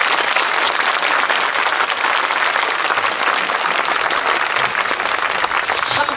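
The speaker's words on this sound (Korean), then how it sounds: "경남에서 이렇게 박수 한번 쳐야 됩니다." Loud, dense applause from a lecture audience in a Korean village hall setting, a continuous wash of many hands clapping close and unbroken throughout.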